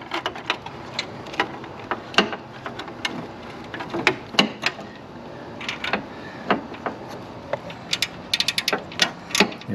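A ratchet with a deep 12 socket clicks rapidly in repeated bursts while turning a nut on a protruding stud on a Fiat 124 Spider, close and crisp, with brief pauses between strokes.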